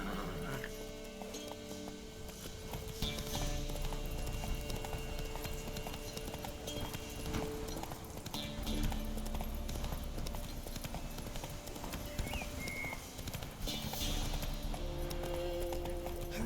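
Hooves of a horse galloping in The Witcher 3 video game give a continuous rapid clip-clop over game music and ambience, with a brief whinny-like sound partway through.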